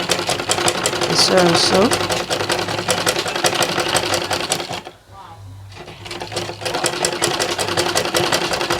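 A sewing machine stitches a welt pocket, its steady fast mechanical whir running loud and close, stopping briefly midway before starting again, with a person speaking over the start.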